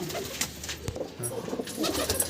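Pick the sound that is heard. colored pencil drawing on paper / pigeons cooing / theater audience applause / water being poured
pigeons cooing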